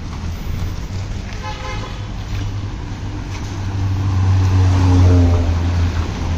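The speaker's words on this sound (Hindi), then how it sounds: "देख लीजिए सुबह 6 बजे, लेकिन ट्रैफिक कितना है।" Early-morning road traffic in Kolkata at 6 AM beside metro construction near Chinar Park, a steady low engine rumble with a couple of horn toots partway through, swelling louder toward the end.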